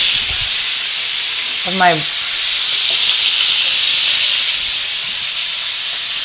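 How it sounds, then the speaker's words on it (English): Butter sizzles and hisses steadily in a hot pan during basting, a broad constant frying noise throughout with a brief voice near the start. "So you just baste it with the butter."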